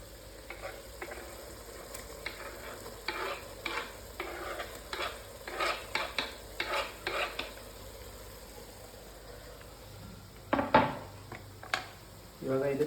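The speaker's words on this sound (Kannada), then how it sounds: "ಸೊ ಇವಾಗ ಟೊಮೊಟೊ ಹಾಕಬೇಕು." Chopped tomatoes fry in a pan while a spoon scrapes and stirs them in repeated strokes. Each stir comes in an irregular burst over a soft, low sizzle, ending in a clatter of utensil against the pan.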